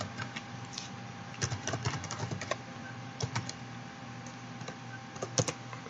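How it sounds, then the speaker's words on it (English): Keys clatter on a computer keyboard in quick irregular bursts and pauses, soft and close, with no voice. "Let's type in calculator."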